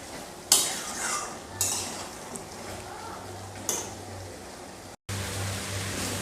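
Chicken and potatoes cook in a pan for a chicken curry, a soft steady sizzle beneath a few sharp scrapes and clinks of a utensil against the pan, close and fairly loud.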